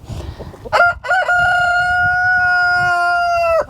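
A rooster crows loudly and close, one long drawn-out cock-a-doodle-doo held for several seconds, with a short rising start before it.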